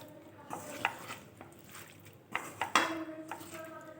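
Small fish being mixed by hand with spices in a bowl for a Bengali chachchari, giving soft squelching stirs and a few sharp clinks of utensils against the dish, quiet and intermittent with no talk.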